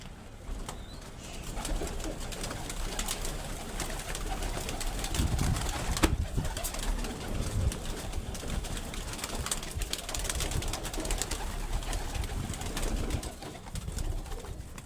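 Soft, repeated cooing of several pigeons nearby, layered with rustling and a few faint wing flaps, continuing throughout.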